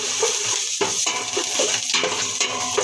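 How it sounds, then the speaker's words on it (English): Garlic dropped into a thin casserole pot on low heat, then stirred, with a hiss of sizzling and repeated metallic scrapes and clinks of a utensil against the pot, close and steady, with no voices. "Then now let's put the garlic."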